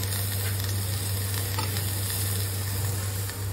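Onions sautéing in a pan for South Indian poori masala, a dense steady sizzle with faint stirring, close and continuous, over a low steady hum.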